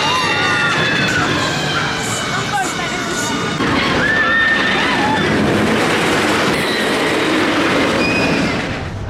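Wildcat's Revenge roller coaster at Hersheypark roars past in a loud, continuous rush of track rumble, with squealing wheel tones rising and falling and voices shouting over it.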